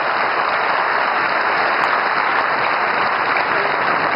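Steady, loud applause from an audience at a speech by Prime Minister Narendra Modi of India, a continuous dense wash of clapping that holds evenly throughout with no voices.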